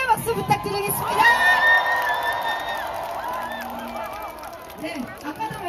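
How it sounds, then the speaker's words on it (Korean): A large outdoor crowd roars and cheers at a big evening protest rally in a plaza in Ulsan, with shouting, a steady wash of applause and noise, and high whistles or calls rising over it. "우리 10대들에게 응원의 박수 부탁드리겠습니다"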